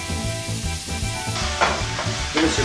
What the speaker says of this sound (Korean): 바로 이렇게 볶아줘요.